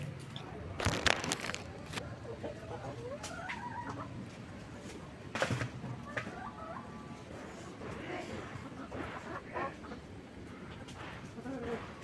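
Backyard chickens, including an old hen, cluck intermittently at a moderate distance, with scattered clatter and knocks and some voices talking in the background.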